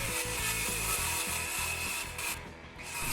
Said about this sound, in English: I used those pieces to lay out the lines and cut my 3/4 inch pine plywood